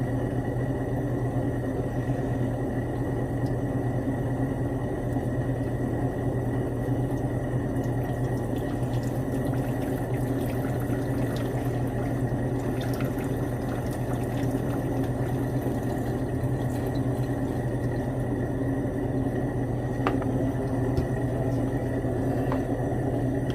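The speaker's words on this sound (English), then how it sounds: "Go ahead and slowly drip it down the side so we're not splashing." A chemical solution poured slowly down the inside wall of a beaker while refining silver from scrap sterling silverware, producing a steady, continuous liquid trickle over a low, even background hum, with no talking.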